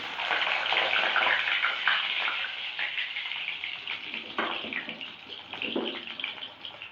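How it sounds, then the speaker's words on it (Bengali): Pieces of pointed gourd (potol) sizzle steadily in hot oil in a pan, a close, continuous crackling hiss that swells and dips slightly throughout. "ছেড়ে দিয়ে পুরো হালকা লাল লাল লাল করে ভেজে নেব।"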